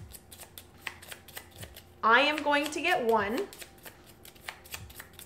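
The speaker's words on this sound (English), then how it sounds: "I'm going to quickly shuffle up all of these category cards" Category cards for the board game Ex Libris get shuffled in one brisk riffle lasting over a second, close and crisp, with a person speaking softly before and after.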